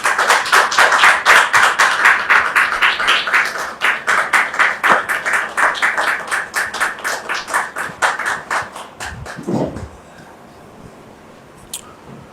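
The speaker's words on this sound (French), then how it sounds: "Merci de les recevoir sous vos applaudissements" A television studio audience greets guests with rhythmic, synchronized clapping in a steady beat. It runs strong for about nine seconds, thins out, then stops, leaving a few scattered claps and quiet.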